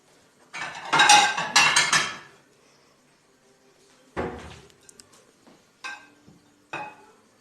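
Dishes and plates clatter loudly in a burst, followed by a few separate knocks and clinks of crockery and cutlery with quiet gaps between.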